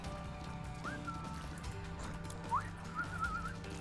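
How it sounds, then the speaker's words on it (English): A person whistles into a microphone in two short rising notes, the second longer and wavering, close and fairly clear over low game background sound. "Sorry, I didn't mean to whistle into the mic."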